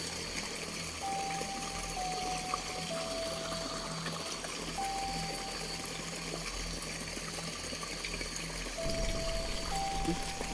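Water flows steadily in an outdoor spot, a continuous soft rushing wash with no break across the span, while faint tonal sounds come and go over it.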